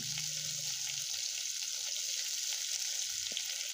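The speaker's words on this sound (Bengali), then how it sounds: "ভালোভাবে মশলাটাকে এইভাবে ভেজে নিতে হবে" Chopped onion, garlic and spices fry in a generous amount of oil with green chillies, giving a steady close sizzle with occasional stirring clicks and no voices, while frying a village-style taro leaf bharta base.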